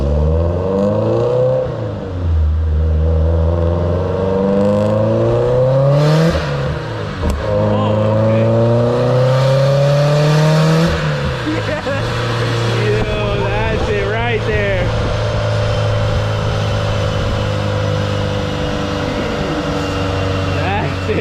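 A 2006 Subaru WRX engine revs hard on a dyno, its loud pitch climbing and falling through repeated sweeps before holding a sustained high drone, with faint voices underneath.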